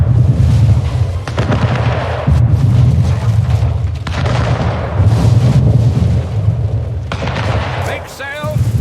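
Ship cannon fire from a schooner's forward-facing turrets in a naval battle in the video game Anno 1800, heavy booms and blasts repeating across the stretch under steady game music and effects.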